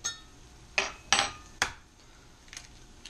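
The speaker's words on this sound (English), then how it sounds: "That was an aggressive egg crack." Eggs cracked hard against a bowl or pan edge while making a make-ahead egg and ricotta bake, giving three sharp close knocks in quick succession, then a faint softer tap.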